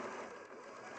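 A sewing machine runs steadily and continuously at close range, its even mechanical whir unbroken from start to finish with no talking over it.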